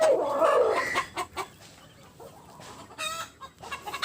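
Native-breed hens cluck and cackle noisily after laying eggs, loud squawking bursts up close followed by scattered, fainter clucks and calls from the flock.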